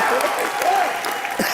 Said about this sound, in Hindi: प्रीटी गॉर्जियस शिवानी दांडेकर के लिए जोरदार ताली।